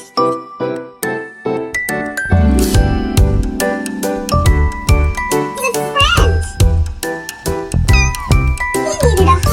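A kitten meows repeatedly in short, high, bright cries, close and loud, with small jingling sounds mixed in.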